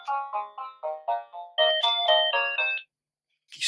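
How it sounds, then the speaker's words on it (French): A telephone rings with a bright electronic melodic ringtone, a series of rhythmic chiming pulses rising in a second louder phrase, then a pause before it starts again, with no one speaking. "Je vais arrêter ce téléphone"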